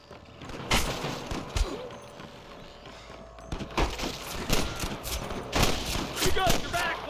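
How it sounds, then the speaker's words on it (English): Gunfire crackles in a Red Dead Redemption shootout, with scattered sharp shots and quick bursts ringing out at varying distances over a busy background of game effects. "I can hear more gunshots."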